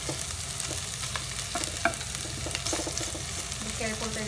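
Ginger and garlic sizzle as they are stir-fried in a pan, a steady near crackle broken by repeated scraping stirs and occasional sharper pops, with no talking.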